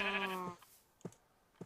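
A single drawn-out bleat from a sheep in the Minecraft video game, followed by a few soft, faint footstep-like taps.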